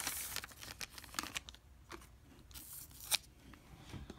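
A foil trading card booster pack being torn and opened by hand, with crisp crinkling, ripping and scissor-like snips in a close, quiet room and no talking.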